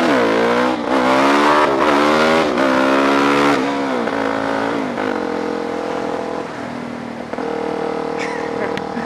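A car engine revs and accelerates hard, loud and close, with rising and falling pitch sweeps over about nine seconds and a voice briefly present.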